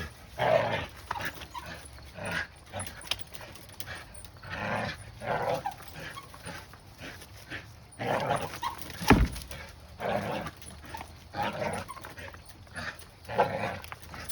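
A dog gives repeated short barks and yips at moderate distance, coming in irregular bursts over faint background noise, with brief quiet gaps between them.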